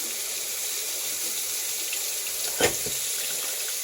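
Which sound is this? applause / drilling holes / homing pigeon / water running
water running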